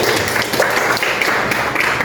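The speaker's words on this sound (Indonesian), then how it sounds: "Oke, tepuk tangan buat kalian" A classroom of students applauds together, a dense, steady wash of many hands clapping at close range with no pause across the whole stretch.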